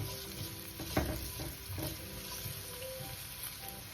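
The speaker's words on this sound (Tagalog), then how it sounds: "Siguraduhin lang po natin na ang bawang po natin ay medyo magba-brown na po siya." Garlic frying in a pan for anchovy fried rice, a steady close sizzle with stirring scrapes and a sharp clack near the start.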